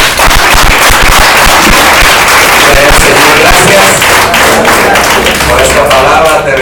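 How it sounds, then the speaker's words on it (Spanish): A church congregation bursts into loud, sustained applause, dense clapping filling the space continuously, with a voice speaking briefly over it. "Dale un aplauso a Él."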